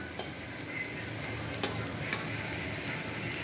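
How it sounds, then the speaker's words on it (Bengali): Onion and garlic fry in hot oil for stuffed pointed gourd. A faint, steady sizzle runs throughout, broken by a few sharp clicks of a utensil against the pan. "পেঁয়াজ রসুন তেলে দিয়ে ভেজে নিলাম,"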